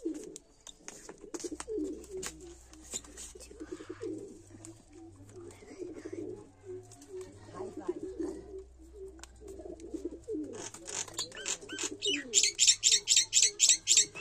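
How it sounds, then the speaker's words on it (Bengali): Pigeons being readied for a pigeon tournament coo in low rolling bursts, close and repeated, with faint chirps, a low hum and rapid rhythmic clatter near the end. "পায়রা টুর্নামেন্ট আছে, তো পায়রা রেডি করছি এখন।"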